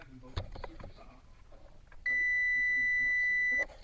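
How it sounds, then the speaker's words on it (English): A multimeter set to continuity, probing ignition wiring in a car steering column, gives one steady electronic beep lasting about a second and a half, after some light handling clicks. "we're going to set our voltmeter to that, and we should not hear a beep."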